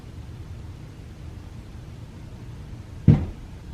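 A cat bumps into a door near a back doorway: one sudden, fairly loud thud stands out against quiet room noise, with no one talking.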